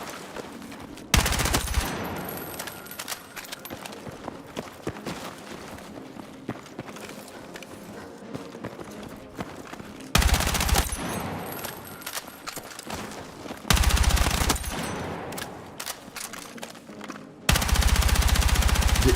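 Automatic gunfire with heavy recoil in a video game, long sustained bursts alternating with quieter gaps, loud and close throughout.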